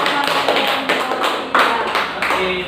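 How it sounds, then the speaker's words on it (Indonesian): Classroom applause during a teaching practice session in Indonesia, a short burst of students clapping at close range with irregular taps, fairly loud throughout. "Berikan tepuk tangan."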